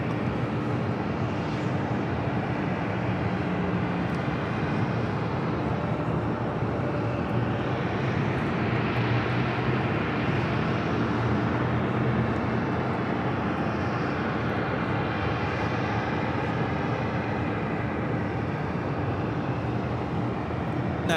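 An Air France airliner on flight 28 to Papeete at LAX rolls down runway 25 right for takeoff, its jet engines a loud, steady, broadband roar that swells gently and holds without a break.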